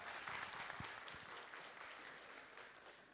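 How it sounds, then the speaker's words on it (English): Audience applause ringing out at a medical talk on the ATLS handshake, a steady burst of clapping from a crowd that holds fairly even for about three seconds before tapering slightly. "Can you give him a round of applause as well?"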